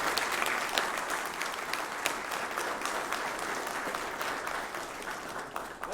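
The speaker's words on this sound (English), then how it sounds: "Let's give him a round of applause," An audience at a county fire rescue quarterly awards ceremony claps in a loud, sustained round of applause that holds evenly to the end.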